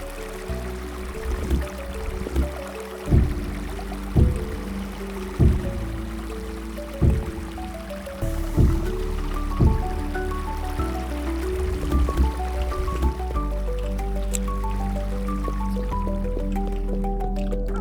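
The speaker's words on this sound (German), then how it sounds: "Es plätschert ja das Wasser im Bunker." Water splashes and trickles inside a bunker in the video game Creativerse, with soft, repeated dripping and sloshing over a steady tonal game background, punctuated by regular low thumps.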